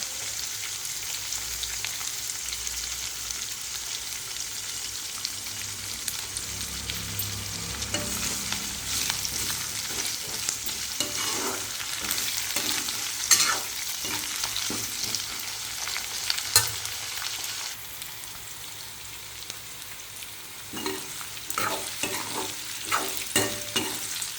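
Chopped onion and garlic sautéing in hot oil for a dry fish curry, a steady close sizzle broken by repeated scraping stir strokes, with no voices.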